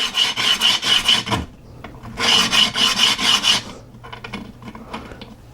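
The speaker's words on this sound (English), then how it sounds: "this emery board does a great job with getting the glaze off" An emery board rubbing the glaze off a bike brake pad in quick rhythmic rasping strokes, two close, loud bursts of steady scraping followed by lighter, fainter rubbing.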